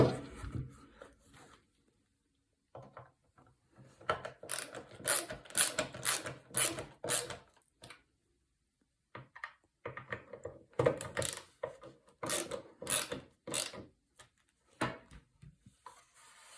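Screws being driven to tighten the lid of a wooden nesting box: bursts of close, dry ratcheting clicks and grinding in several runs, with short pauses between them.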